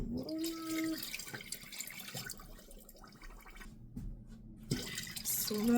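Water pouring into a pot or measuring cup while making syrup for canning pears, a steady close splashing stream that continues throughout with brief shifts in flow.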